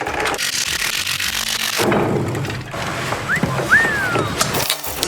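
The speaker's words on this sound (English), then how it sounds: "Let's pop this cover off now." A rear differential cover, an open differential, being pried off during a re-gear job: close metallic scraping and rubbing with a few short squeaks, steady and fairly loud throughout.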